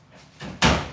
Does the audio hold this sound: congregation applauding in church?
no